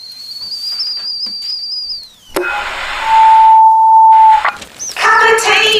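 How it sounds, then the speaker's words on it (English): A kettle whistles steadily at high pitch, then the tone drops away, followed by a long mid-pitched tone and brief bright chimes, all fairly loud in a radio-advert setting with talking around it. "The kettle's on."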